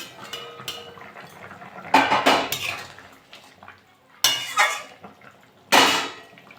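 Fish added to a pot of boiled potatoes and plantain for a bele fish curry: a few loud metallic clangs and clatters of pot and utensils in separate bursts, with quieter handling between.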